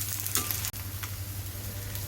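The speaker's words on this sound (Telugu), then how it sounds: "ఆమ్లెట్ ఇలా ఒక సైడ్ బాగా రోస్ట్ అయిన తర్వాత దీన్ని టర్న్ చేసుకోవాలి." Semiya omelette frying in oil in a pan, a steady close sizzle with a faint scrape or turn just past half a second, no voices.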